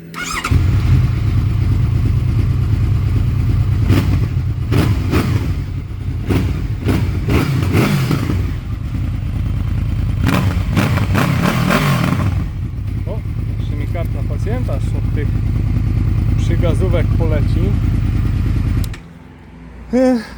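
A Honda VFR800X Crossrunner motorcycle engine runs steadily on a test ride, a loud continuous low drone with brief revving swells, under someone talking.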